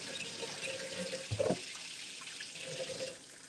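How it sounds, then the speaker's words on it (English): Kitchen tap running water over hands being washed, a faint steady rush with a brief splashy burst in the middle, heard from a little distance in a quiet room. "Wash my hands."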